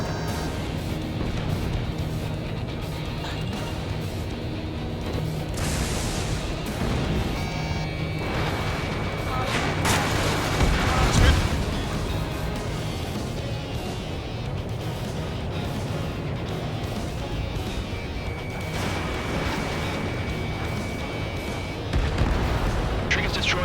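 Missiles firing and exploding in the jet combat game Ace Combat 7, a steady roaring engine bed with repeated booming blasts, one heavier burst midway, a player speaking now and then over the noise.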